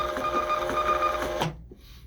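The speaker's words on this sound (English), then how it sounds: "listen to the motor differences here of how this prints with 3 labels" A label printer's motor runs steadily while printing three labels, a buzzing whir with quick rhythmic pulses that stops abruptly, followed by a faint brief click.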